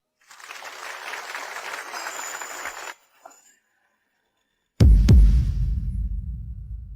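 A few seconds of steady clapping from a crowd welcoming a bride's entrance, then silence, followed by a sudden loud low thud and a rumbling tail.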